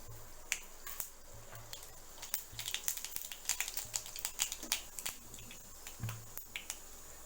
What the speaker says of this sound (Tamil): கடுகு உளுந்து போட்டுக்கலாம்.